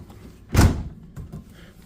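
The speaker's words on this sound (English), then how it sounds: "Well, door's a little rough. Sounds like it's gonna break off." A stiff, seemingly broken door in a hotel studio room scrapes and thuds once as it's moved, a short rough bang followed by a fainter knock, nearby in a quiet room.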